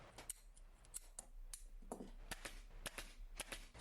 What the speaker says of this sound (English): So this corner, I'm just going to cut some thickness out of there.